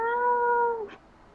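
A drawn-out, cat-like howl with a steady tone, held close and loud for under a second before fading, ending in a brief breathy burst; it could be a voice imitating a group of cats trying to howl.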